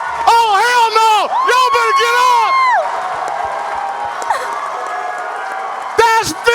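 A Comic-Con panel audience at a New York Final Fantasy 7 Rebirth event erupts in loud whoops and cheers, with someone shouting excitedly over the crowd before the noise settles into a steady roar and flares up again.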